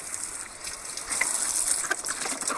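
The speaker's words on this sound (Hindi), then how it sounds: "ढक्कन वगैरह पे आपको सही तरीके से पानी मारना है" Water spraying from a hose onto a washing machine's lid and body during a service wash, a steady close hiss with brief louder bursts, no talk.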